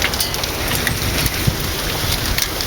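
Heavy rain pours steadily during a thunderstorm in Waco, a dense, unbroken hiss of drops pattering on surfaces close by, with no voices.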